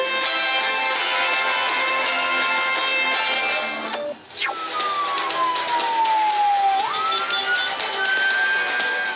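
Ambulance siren on a road in traffic, loud and close, wailing with long swooping tones that rise and fall, with a brief break partway through before the wail resumes.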